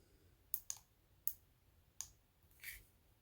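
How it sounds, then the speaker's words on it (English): Button switch on a Streamlight TLR-7 Sub weapon light clicked several times: sharp, crisp clicks, a close pair, then two single clicks, and a softer click at the end, heard alone over a quiet background. "Clicking real quickly for constant on, holding down for momentary and letting go."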